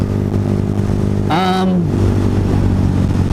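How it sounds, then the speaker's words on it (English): A Lifan KP Mini 150cc motorcycle is ridden with a loud, steady engine drone and heavy wind rush close up, plus a brief rising-then-falling whine partway through. "I am riding the Lifan."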